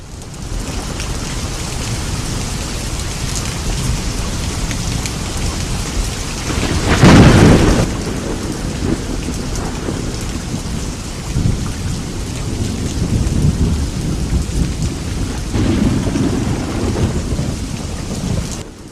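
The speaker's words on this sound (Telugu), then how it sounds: "ఉరుములు మెరుపులు పడిన సమయంలో నేను నా పక్కన ఒక అమ్మాయితో ఉన్నాను వర్షం వేరే చోట నుండి వస్తోంది" A thunderstorm with steady rain pouring down, a loud rumble of thunder breaking out near the middle and fainter rolls later, no voices present.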